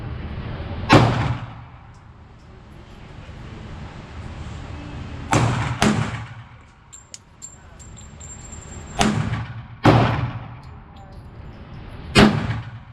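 Glock 21 Gen 5 .45 ACP pistol fired at an indoor range from about 10 yards: six loud, sharp gunshots in uneven spacing, several in quick pairs, with range echo and a faint high whine between.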